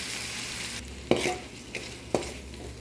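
Tomato and mushroom fry for a shrimp pasta, hissing steadily in a pan, while a utensil stirs them in a few distinct scraping strokes.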